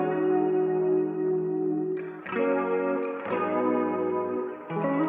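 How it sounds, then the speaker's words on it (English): Clean electric guitar through a Helix lo-fi preset with added reverb and microshift rings out in sustained chords, each change blooming into a lush, shimmering wash that hangs between strums. "In the DAW, I actually added some reverb and again some microshift, and it sounds like this."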